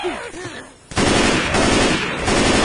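Dense automatic gunfire in Left 4 Dead 2 co-op play, loud and continuous after a brief lull, with chaotic game noise and a voice under the shooting.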